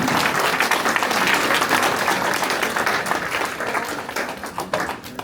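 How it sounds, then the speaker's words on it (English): Sustained applause from an audience at a candidates night meeting, dense steady clapping throughout that slowly thins toward the end, with no voices on top. "let's give a big round of applause for everybody in front."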